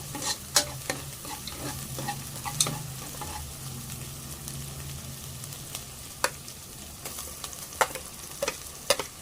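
Onion and tomato sautéing in a pan for panchmel dal, a steady soft sizzle with intermittent clicks and scrapes of a spoon stirring, close and moderately quiet.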